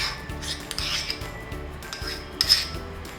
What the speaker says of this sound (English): I'm going to keep blending the butter into the crumb until it becomes a coarse crumb mixture